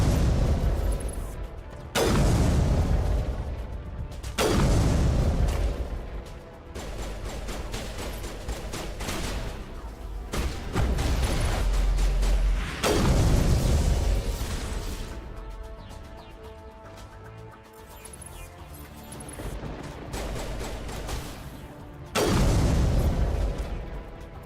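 Repeated bursts of gunfire and heavy booming impacts in Mass Effect Legendary Edition, loud volleys every few seconds with rumbling tails between them and no talk.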